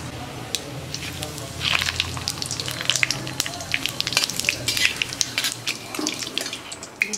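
Spices fry in a spoonful of ghee with bay leaves and dried chilli, crackling and popping in fast irregular bursts over a low sizzle, while a person speaks.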